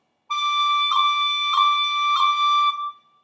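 A bright, pure tin whistle high D holds steadily for a few seconds, broken three times by quick flicked pips, played alone and close.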